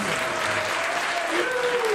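Audience applause after young students perform tunes, a dense, steady wash of clapping from a full room that holds for the whole stretch.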